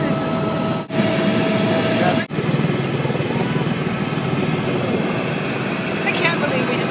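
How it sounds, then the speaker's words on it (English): A helicopter flies between Lauterbrunnen and the Lauberhorn, its loud, steady rotor and engine roar filling the cabin continuously from start to finish, heard from inside at close range. "I can't believe we just took a helicopter."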